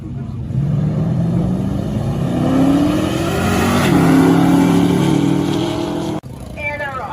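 Muscle cars at a car show drive off with loud, close engine revving and accelerating, rising and falling tones building over several seconds, with voices talking over them.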